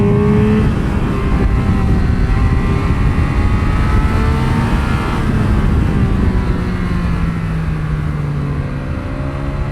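A 2022 Triumph Speed Triple 1200 RR motorcycle on a racetrack gives a loud, steady engine roar with rising and falling pitch as it holds speed through the laps, under constant wind noise and with no voices.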